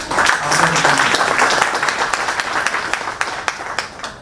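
An audience at a Vastu and astrology talk applauds loudly and continuously, a dense wash of clapping that slowly thins toward the end, with a few distinct claps standing out.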